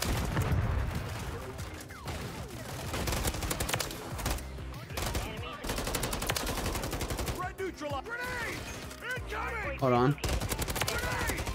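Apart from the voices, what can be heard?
gunfire from a gun in video game Modern Warfare 3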